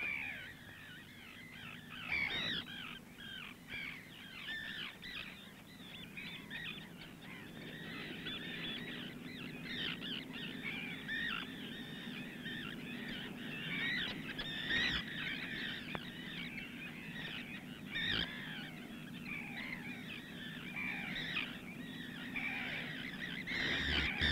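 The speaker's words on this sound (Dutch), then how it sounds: "grote broedkolonies van algemene vogels, zoals zilvermeeuwen en scholeksters" Many herring gulls and oystercatchers call at once in a busy Wadden Sea breeding colony, overlapping shrill cries and piping notes forming a continuous chorus at moderate distance.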